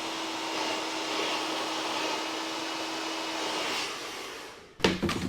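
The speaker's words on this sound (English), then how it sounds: "Or you could put a cool shot on your blow dryer too." A blow dryer on its cool shot setting, used to finish a women's undercut haircut. It blows as a steady, even rush for nearly five seconds, then cuts off with a couple of sharp clicks.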